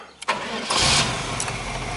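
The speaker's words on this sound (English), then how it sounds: "Okay, let's start the engine." A 1934 Ford 5-window coupe engine cranks with a rising whir, catches, and settles into a rough, steady idle, started cold with the choke on.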